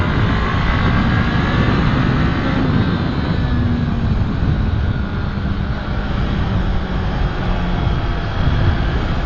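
A Honda CB500X two-cylinder motorcycle engine drones steadily as the bike is ridden and slows down, heard as a continuous loud engine note mixed with heavy wind buffeting.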